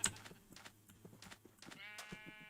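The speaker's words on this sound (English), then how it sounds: "I'm just herding some sheep." Sheep bleating in Minecraft, a few short nasal bleats close by over a low game ambience, the last one a longer wavering cry near the end.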